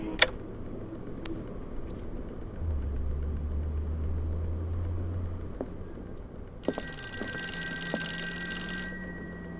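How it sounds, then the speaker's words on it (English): A telephone rings in a Call of Cthulhu game scene, with a bright ringing tone that comes in late and holds for a few seconds over low ambient rumble. "There's the phone."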